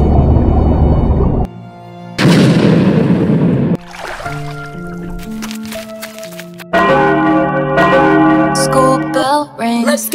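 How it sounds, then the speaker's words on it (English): A school bell rings in tolling tones over a stretch of music with abrupt changes in loudness. "School bell rings."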